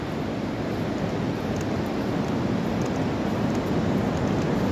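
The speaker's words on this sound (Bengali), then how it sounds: "তো দেখো জলের ঢেউটা আস্তে আস্তে করে বাড়ছে" Sea waves at Digha beach make a loud, steady broadband roar of surf that never lets up, mixed with wind and with no voices.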